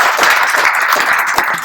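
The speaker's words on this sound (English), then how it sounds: "and a round of applause for them." An audience at an inauguration event claps loudly and steadily, a dense, close burst of applause that fills the whole moment.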